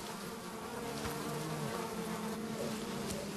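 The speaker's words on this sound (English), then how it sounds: "giant cliff bees build their hives on a rock face" Giant cliff bees swarm over a nest of large combs hanging on a rock face, giving off a dense, continuous buzzing hum that stays steady and close throughout, with no voices.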